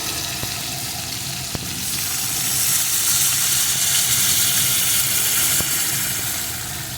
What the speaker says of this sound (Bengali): এখন এর ভিতরে আমি দিয়ে দেবো পরিমাণ মতো জল